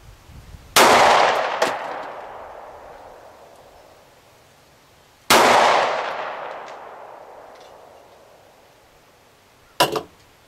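A Beretta Nano pistol fires three loud, sharp shots about four to five seconds apart, each followed by a long ringing decay.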